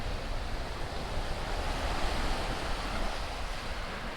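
Ocean surf washes and crashes against rocks along the coast on the route to Punta de Mita from Puerto Vallarta, a steady, loud roar of breaking water with no pauses, heard alone.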